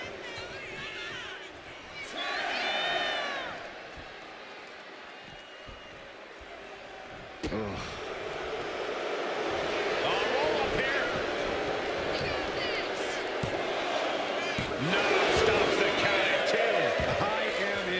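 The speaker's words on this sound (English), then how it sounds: "Bronson Reed rallying the crowd behind him" A wrestling crowd cheers and roars as a heavyweight wrestler rallies them during a match. The broad crowd noise swells and stays loud throughout, under continuous excited commentary.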